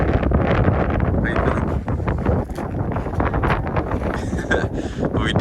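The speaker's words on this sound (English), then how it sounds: "It's pretty windy." Strong wind blowing during a climb up a mountain before dawn, a steady broadband roar buffeting the microphone throughout with gusty surges.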